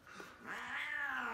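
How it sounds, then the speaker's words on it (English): Cats fighting in the background let out a faint, drawn-out rising caterwaul and growl, one sustained yowl swelling over a second or so with no talking. "And you can hear my cats fighting in the background."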